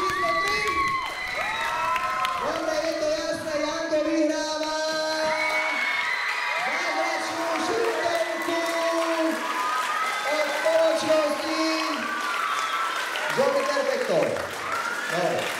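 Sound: audience cheering and applauding for dancer number one

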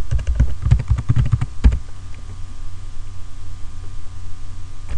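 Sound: typing a password on a computer keyboard

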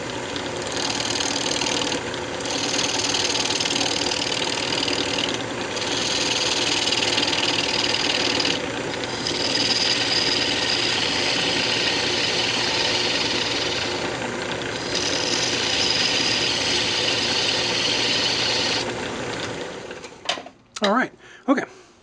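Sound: wood lathe turning a box blank with a roughing gouge

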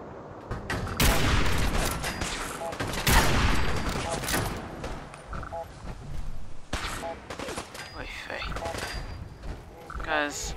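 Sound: gunfire from enemies in Fallout 4 video game

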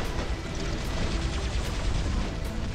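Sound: robot weapon gunfire in War Robots video game

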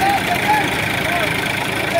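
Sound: tractor engine running during tractor pulling contest

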